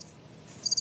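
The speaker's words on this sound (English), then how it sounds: "I'm gonna get the crickets out for this one." A crickets chirping sound effect plays briefly, a few quick high chirps rising near the end over a faint background hiss, with no talking.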